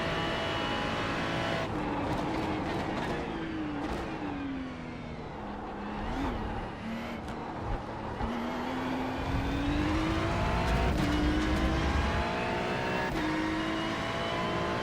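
Ferrari sports car engine in the iRacing sim, a continuous whining drone that rises and falls through gear shifts and revs, steady and fairly close, with no talking.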